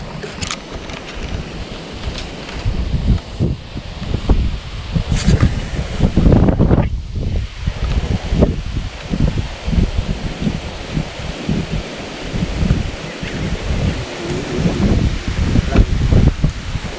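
Wind blows steadily across a lake in open air, buffeting the microphone with low, gusty rumbles and rustling throughout, loud and continuous with uneven surges.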